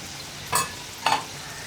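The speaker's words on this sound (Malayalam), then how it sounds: "നമ്മൾ എടുത്തു വെച്ചിരിക്കുന്ന എല്ലാ പൊടികളും ഇത് നന്നായിട്ട് ഇളക്കി" A spoon stirs spice powders in a pan on low flame while making sardine pickle, two short scraping strokes over a quiet background.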